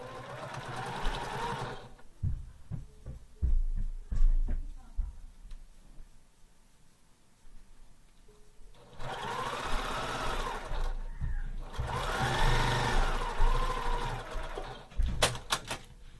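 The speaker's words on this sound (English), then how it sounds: "So we're going to sew that on either side" A sewing machine stitching quilt block pieces, running in two sustained whirring bursts with rapid mechanical chatter, separated by a quieter pause with clicks and handling, with a person talking at points.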